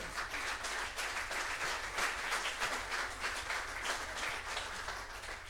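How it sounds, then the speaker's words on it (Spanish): Applause from a Spanish-speaking church congregation after an evening Bible study on Exodus, a sustained even wash of many hands clapping, moderately quiet and without speech. "Dele palmas al Señor."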